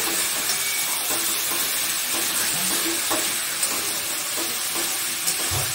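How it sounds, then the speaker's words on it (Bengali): Spice masala for mutton kosha fries in oil as a spoon stirs it, a continuous sizzle with soft scraping strokes repeating through the pan, fairly close and with no talk. "মশলা হয়ে গেছে কষা, আর একটু ভালো করে কষবো আমি। তেল ছেড়ে দিয়েছে,"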